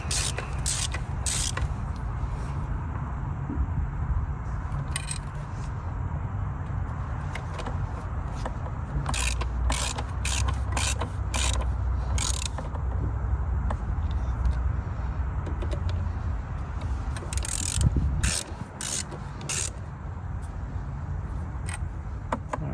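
A ratchet tightening throttle body bolts on a Ford Fiesta engine, repeated sharp clicking bursts close up over a steady low background hum.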